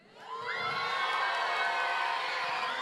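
A crowd of children cheers and shouts together, rising quickly into a loud, sustained roar of overlapping high voices that holds steady for a few seconds.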